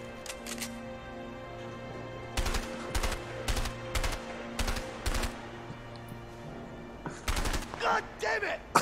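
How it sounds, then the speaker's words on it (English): Gunfire in the video game A Way Out comes in sharp bursts of shots, several separate volleys spaced over a few seconds with a dense flurry near the end, over a low game soundtrack hum. "Oh Jesus, bullets are flying."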